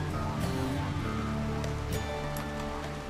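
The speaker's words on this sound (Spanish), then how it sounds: "Está lloviendo, ¿no?" Steady rainfall in the colony-building video game RimWorld, a dense even patter with faint tonal game music underneath, no talk.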